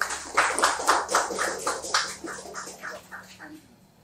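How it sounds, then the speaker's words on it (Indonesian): Applause from an audience at a live student protest forum, a burst of scattered clapping that fades away over about four seconds. "Tepuk tangan teman-teman."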